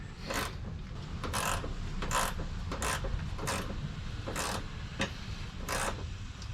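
Socket ratchet working on the rear suspension of a Porsche 911, giving repeated short clicking bursts in a steady rhythm, about eight strokes, close and fairly quiet over a low background rumble.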